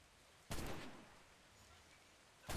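Two loud gunfire bursts in a naval video game, aimed at a ship's bow, each a sudden broad blast with a trailing rumble, about two seconds apart, with no talk.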